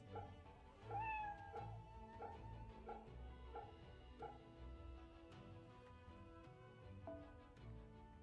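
A cat meows within a Samurai Remnant game scene, a rising call near one second and fainter mewing afterward, set over steady game music and ambience.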